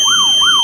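A loud electronic alarm from a computer lab intruder system triggered by a smartphone, sweeping up and down in two quick wailing cycles over a steady high tone, with no talk.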